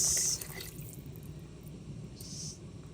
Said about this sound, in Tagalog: lagyan na natin ang ating water, ang ating sinigang